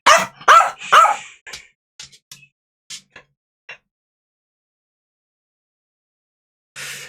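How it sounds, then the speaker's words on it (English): A dog barks in a quick burst of three loud, close barks, then a few shorter yips and whimpers, a long quiet pause, and one last bark at the end. "Don't bark at me."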